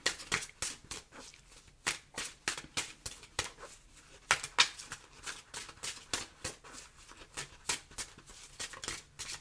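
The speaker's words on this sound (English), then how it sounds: "feels like the longest shuffle ever" Tarot cards are shuffled in a long run of rapid, crisp riffling and slapping bursts, close and fairly quiet, repeating in a steady irregular rhythm for several seconds without speech.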